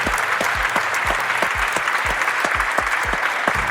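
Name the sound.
audience applause and cheering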